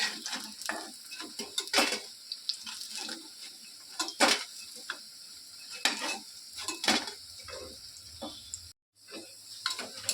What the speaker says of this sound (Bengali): আবার দিয়ে দিচ্ছি বড়াগুলো, কিছুটা ভেজে নিচ্ছি